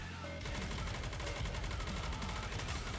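Gunfire from the video game Nikke: Goddess of Victory, with dense automatic shots fired all at once in a continuous rapid stream, loud and steady throughout.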